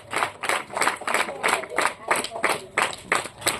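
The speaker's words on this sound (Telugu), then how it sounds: "చప్పట్లు కొట్టాలి మీరు" Audience at a village Sunday school New Year celebration clapping for a first-place prize winner, a steady rhythmic run of hand claps from a crowd, fairly close, lasting a few seconds.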